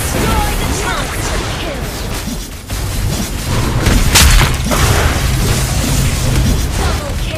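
A turret being destroyed in a MOBA-style video game, with a cyborg fighter on a tank build, sets off booming blasts and crashing bursts amid dense, continuous battle noise, with game voice lines over the action.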